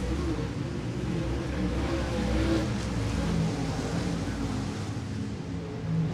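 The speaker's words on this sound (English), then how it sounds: "Nose to tail around the bottom of the speedway go all the cars through 1 and 2." Race cars run nose to tail around a speedway during a late-model finale, a distant, steady engine drone that swells and eases slightly as the pack passes, fairly faint with no voices.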